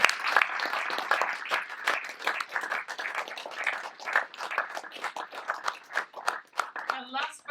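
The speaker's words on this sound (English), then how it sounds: "A big round of applause for them, guys." A small group clapping steadily and fairly close at a coding bootcamp demo day, a sustained round of applause with a voice chiming in briefly near the end.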